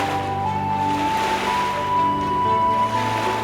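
Ocean surf washing and rolling steadily in an animated tale, a continuous wash of sea waves carrying a baby away, with a sustained musical tone ringing over it and no talk.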